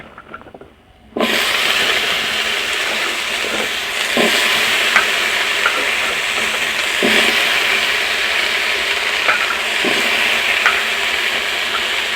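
Washed, peeled and chopped papaya drops into a hot kadai wok and bursts into a loud, sudden sizzle that keeps crackling steadily at close range, with occasional stirring knocks and no talk.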